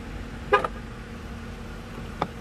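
A 2021 Jeep Wrangler Rubicon Sky One Touch gives a short horn chirp as the keyless entry locks it, one clear toot followed by a fainter second chirp about two seconds later, heard outdoors with no talking.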